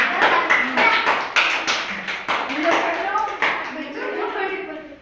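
Nursery-level students clapping in a classroom during a storytelling lesson, irregular close hand claps overlapping with children's voices and chatter throughout.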